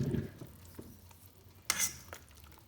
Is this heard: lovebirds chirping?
no